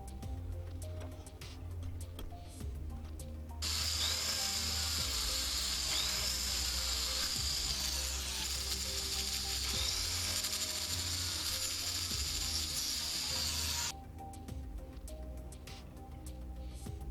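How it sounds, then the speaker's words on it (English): A small drill bores two holes into wire for a meteorite spinning pendant, giving a steady, close, high-pitched whir for about ten seconds in the middle, with quieter workshop sounds before and after. "we mark our drill points and drill 2 holes into the wire"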